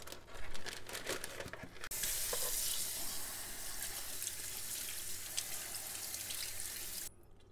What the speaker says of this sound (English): If you decide to go with fresh strawberries, you need to wash them first.